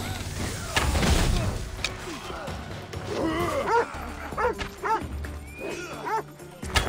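Dog in the Assassin's Creed Odyssey video game barking and yipping repeatedly amid loud battle noise and combat effects, with a few whimpers mixed in.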